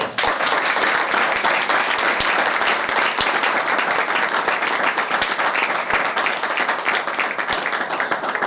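A church audience claps loudly and energetically during a televised sermon by Pastor Tariq Waris, a dense sustained burst of hands with sharp individual claps standing out throughout.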